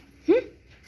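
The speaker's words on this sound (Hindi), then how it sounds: "बेमतलब में भौंक रहा है" A single short bark, fairly close, with faint background noise before and after.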